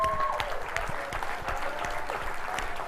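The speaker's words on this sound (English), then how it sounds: "Give them up a big round of applause." Brisk, moderately quiet applause from a crowd at an XR conference event, a steady patter of hand claps with a faint voice briefly heard at the start.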